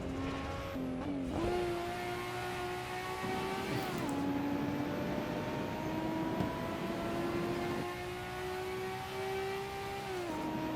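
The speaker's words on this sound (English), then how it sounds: "Braking on this downhill section where gravity is working against us, so we have to brake earlier than we would." A Nissan GT-R brakes on a downhill stretch of the Nordschleife, its engine droning steadily with pitch steps and slow rising sweeps as it shifts and slows, mixed with constant road and wind noise.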